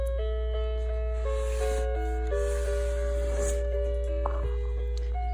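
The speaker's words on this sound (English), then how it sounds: "You can see the teacups spin around as the music plays." Mr. Christmas spinning teacups musical toy playing a tinkling, music-box-like melody of clear sustained notes, close and moderately loud, over a steady low mechanical hum.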